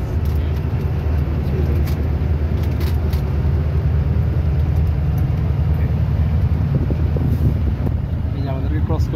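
Miami Economy AC bus driving from Comilla to Dhaka, a loud steady interior hum of engine and road with air-conditioning and wind noise, heard from a front seat while someone talks over it.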